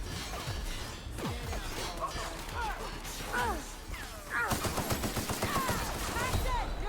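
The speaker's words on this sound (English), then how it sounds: "Who the fuck's shooting me?" Gunfire in The Outer Worlds: rapid bursts of shots and impacts fill the whole stretch, growing denser and louder toward the end, with game sounds mixed in.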